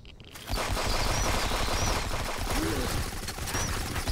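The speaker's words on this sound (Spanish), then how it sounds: "Estaba haciendo disparos por todos lados." Video-game gunfire rattles in dense automatic bursts that fill the whole clip, loud and continuous after a brief quieter opening, with faint voices underneath.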